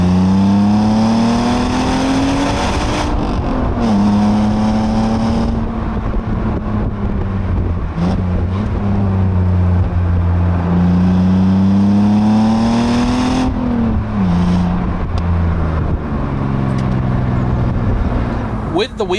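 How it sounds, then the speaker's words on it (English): A BMW Z3 roadster's engine pulls hard along an open road, its pitch climbing through the revs, dropping at gear changes, then rising again, loud and close from inside the car with some wind noise. "let me put my foot down so you can listen to that engine"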